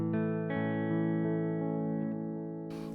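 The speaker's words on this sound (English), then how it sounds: "you'll just hear the echoes go in time with this flashing light" A guitar chord rings through a Donner Yellow Fall 2 delay pedal, and its echoes repeat in a steady rhythm as they slowly decay. A short burst of noise comes at the end.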